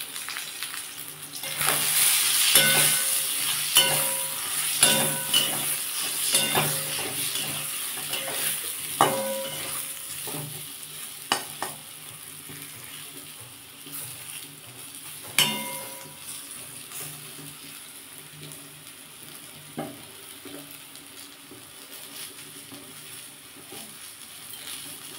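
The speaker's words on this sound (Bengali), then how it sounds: "আমি সামান্য একটু হলুদ দিয়ে বেগুনটা ভেজে নেব" Eggplant pieces fry in oil with a little turmeric, a long steady sizzle punctuated by repeated knocks and scrapes of a spatula stirring in the pan, nearby and moderately loud, no talking.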